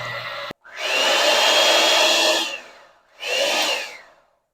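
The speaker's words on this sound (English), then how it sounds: "we're gonna take our little mixer here" Handheld electric mixer whirring through softened cream cheese and sugar, with two loud sustained runs separated by a brief pause, no talking.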